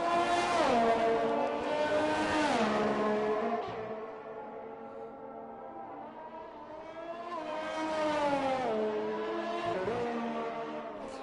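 A race car in a racing video game on a Hungary circuit, its engine revving and shifting through gears in rising and falling whines, loud and close throughout with a dip in the middle.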